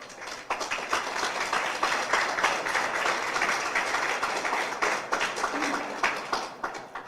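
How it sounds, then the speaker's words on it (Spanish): A church congregation claps together at a Spanish-language service, producing a thick, continuous wash of applause with slight swells, heard from within the room. "Denle un aplauso, ¿verdad?"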